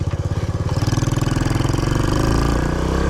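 A Honda Trail 90 motorcycle fitted with a larger sprocket climbs a hill, its small single-cylinder engine chugging in a steady pulsing rhythm that rises in pitch and grows louder and busier as it labours upward.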